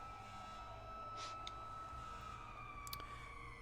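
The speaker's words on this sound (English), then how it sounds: "I will lower the sound of the sirens." A faint siren sound effect wails steadily in the distance over a low, constant background hum, with no voices.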